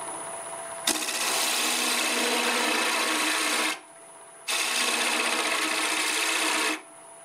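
A spindle gouge cuts wood on a lathe in two sustained bouts, a loud close hissing scrape that starts abruptly, holds steady for about three seconds, then drops to a quieter hum before resuming.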